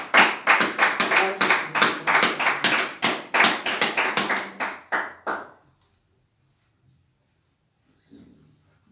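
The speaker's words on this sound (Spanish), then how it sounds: "Dale un fuerte aplauso al Señor." Congregation at a Saturday church service clapping loudly and steadily for about five seconds, then falling quiet, with a brief voice speaking afterward.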